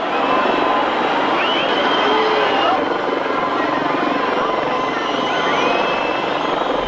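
A helicopter's loud, continuous rotor roar and whine during a huge 1989 protest around a dictator's palace, steady throughout with dense crowd-like noise beneath.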